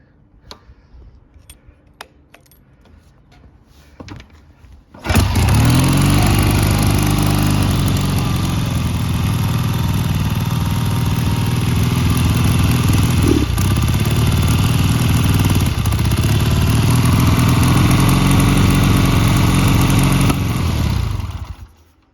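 A 1979 Triumph Bonneville 750cc project motorcycle, choke held with mole grips and no battery fitted, fires up after a few quiet clicks. It then runs loud and close with a steady, clattery idle and a couple of small blips before it cuts out.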